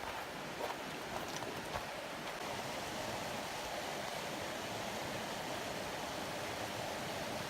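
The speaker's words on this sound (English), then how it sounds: "This is Bright Angel Creek, which funnels, as we work our way down, so does it," Bright Angel Creek in the Grand Canyon rushes steadily downhill toward the Colorado River, producing a loud, continuous wash of flowing water close by with no talking over it.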